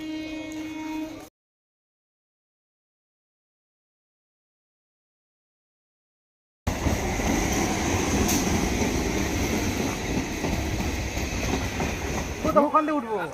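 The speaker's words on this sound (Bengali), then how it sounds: "আর এদিকে ট্রেন ঢুকেছে" A train pulls into a station on the Chandpara–Habra line: a brief burst of sound, then a pause, then a loud, steady rumble of rolling wagons with faint squealing near the end.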